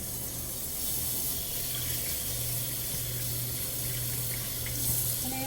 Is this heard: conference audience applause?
no